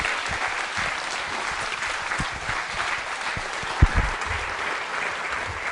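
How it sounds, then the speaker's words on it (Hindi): Steady applause from a school audience at a quiz show, continuous dense clapping at moderate level with a couple of sharper claps standing out near the end. "तालियां जोरों से बजाइए निकिता जी के लिए, तालियां जोरों से"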